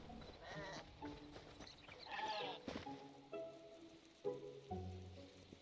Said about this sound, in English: Hey, more sheep.